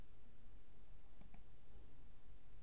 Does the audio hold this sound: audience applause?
no